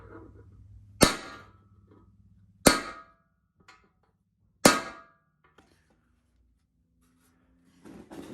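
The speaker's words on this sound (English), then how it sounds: "Just keep on smashing with a punch and it'll eventually bend." Hammer driving a punch against the strong metal transfer case mount of a Willys Jeep, three loud, ringing metallic strikes spaced about two seconds apart, each decaying quickly into quiet.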